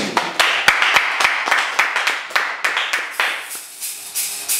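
A church congregation claps in a steady, brisk rhythm while acclaiming the Lord, with sharp, evenly spaced hand claps and voices in the background.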